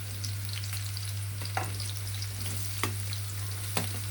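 Chicken roll filling frying in a pan: a continuous close sizzle over a low steady hum, with a few sharp clinks of a utensil against the pan.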